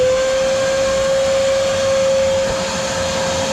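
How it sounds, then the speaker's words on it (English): A shop vac runs at full power pulling water out of a root-blocked drain pipe, a loud, steady roaring whine with a sustained pitched tone throughout, no talking. "we're going to go ahead and extract that water with the vacuum"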